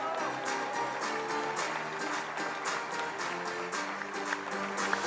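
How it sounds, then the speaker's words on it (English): Arena crowd at the finals of a 3x3 basketball World Tour event in Marseille applauds the shootout winner, loud sustained clapping mixed with cheering and background music or tones throughout. "un tonnerre d'applaudissements pour le maestro et maestro"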